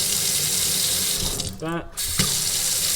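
Water runs steadily from a Glacier Bay kitchen faucet, a loud continuous hiss with a brief gurgling change partway through as the flow is adjusted.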